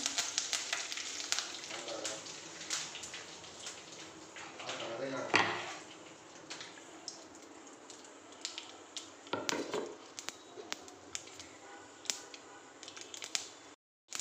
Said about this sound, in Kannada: ಸಾಸಿವೆ ಹಾಕ್ಕೊಂಡೆ, ಸ್ವಲ್ಪ ಕರಿಬೇವು ಹಾಕ್ಕೊಂಡಿದ್ದೀನಿ.